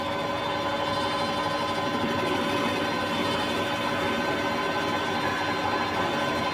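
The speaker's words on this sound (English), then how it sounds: "Now my saw's actually cutting straight" A saw cuts steel stock on a custom motorcycle forward-controls build in a workshop, a steady, continuous whining drone with a constant mechanical hum and no pauses, loud and close throughout.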